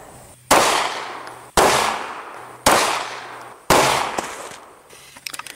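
Four loud, sharp 9mm gunshots with 124 grain jacketed hollow point rounds fired at a soft armor ballistic panel, spaced about a second apart, each with a ringing decay, then a few faint clinks at the end.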